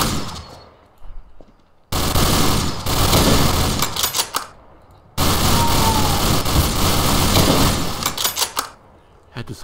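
Repeated heavy mortar blasts and rumbling gunfire in Garry's Mod, loud dense bursts filling two long stretches with brief quieter gaps between, under game noise.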